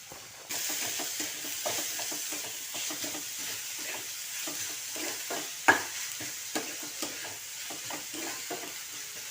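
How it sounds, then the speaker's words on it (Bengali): Coconut and jaggery stirred together in a pan, giving a close scraping, rhythmic stirring over a faint steady sizzle, with one sharper clack partway through. "নারকেল আর গুড়ে ভালোভাবে মিশিয়ে নেব।"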